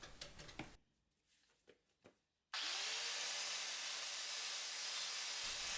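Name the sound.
angle grinder with flap disc grinding wood to line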